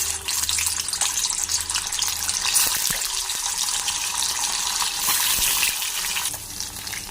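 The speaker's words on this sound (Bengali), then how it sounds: "তেলটা গরম হয়ে গেছে, এবার দিয়ে দেব পনিরটা।" Paneer pieces fry in hot refined oil, giving a steady, loud broadband sizzle that holds evenly throughout with a few faint clinks, and no talking.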